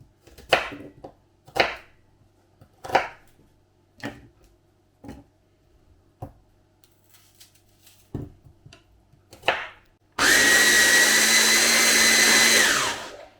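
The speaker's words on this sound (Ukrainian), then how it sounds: "І тепер нам залишилось в цьому ж подрібнювачі подрібнити 10 цибулин або ж приблизно пів кіло." Ten onions are cut up in an electric food chopper after a run of separate knocking chops, then the motor whirs loud and steady for about three seconds before winding down.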